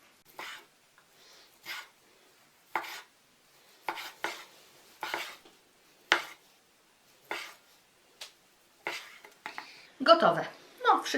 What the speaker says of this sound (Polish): więc teraz pokroję ją w plasterki